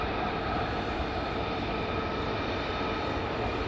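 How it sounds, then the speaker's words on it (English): F-35 fighter jets fly at night near RAF Lakenheath, heard as a steady, broad roar of jet engine noise that holds without letup, with no voices. "We've got 4 F-35s and some more coming down as well."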